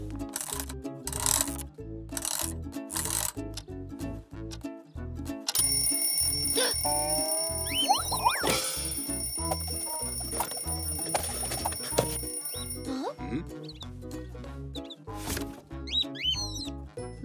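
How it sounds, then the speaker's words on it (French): An old alarm clock rings in a cartoon, a bright, continuous metallic jangle lasting several seconds over lively background music. "Voici mon vieux réveil. Et il marche encore."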